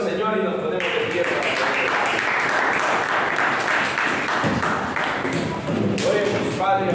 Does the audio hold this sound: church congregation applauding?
yes